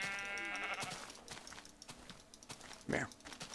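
A sheep bleats in Minecraft, one short wavering bleat near the end, preceded by clicking keyboard taps and faint game sounds.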